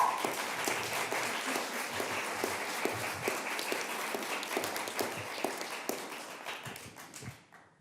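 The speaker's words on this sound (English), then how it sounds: "let's give them a round of applause here today" Applause at a bill signing ceremony in Albany for the Adult Survivors Act, a steady wash of many hands clapping with sharp individual claps standing out, sustained loudly for several seconds before tapering off at the end.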